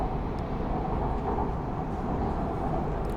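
Bangkok MRT Purple Line train rolling toward Bang Son station, a steady loud rumble of wheels and motor noise, heard from inside the car, continuous and even throughout.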